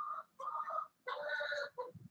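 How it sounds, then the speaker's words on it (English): A squawky chicken walking into a mechanic's shop gives several loud, close clucking squawks in short bursts with brief gaps, and no talk. "one of my squawky chickens is walking into the shop here"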